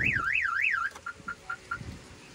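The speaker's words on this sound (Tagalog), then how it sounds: "sorry, nag-alarm" A car alarm wails with a rising and falling siren tone for almost a second, then switches to a run of short, evenly spaced beeps, loud and close, with no one talking.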